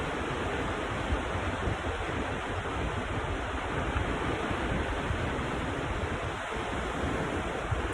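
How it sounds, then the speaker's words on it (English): Ocean waves rolling in, heard as a steady, close roar of surf mixed with wind buffeting the microphone, continuous throughout with no talk. "when I close my eyes, I can see the waves rolling"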